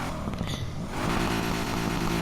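A 2017 Pagani Huayra BC's 754-horsepower V12 in the racing game NFS Heat drones loud and dense, swelling to a steady, sustained roar after a brief quieter start.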